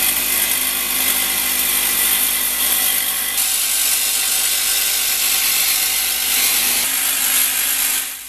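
Jigsaw mounted under a table cutting sheet metal, a steady, loud, harsh buzzing drone running throughout, close and continuous, with a shift in tone partway through and no voices.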